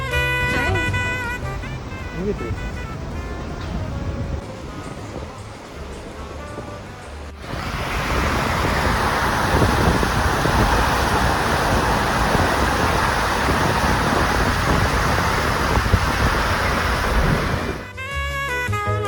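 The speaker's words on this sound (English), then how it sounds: "enjoy at this point the sound of the ocean." Steady rushing ocean surf heard from the Virgin Voyages cruise ship Resilient Lady fills the clip, a broad continuous wash of breaking waves that swells louder partway through, with some wind over the microphone.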